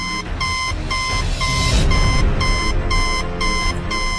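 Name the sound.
machine beeping loudly in audio drama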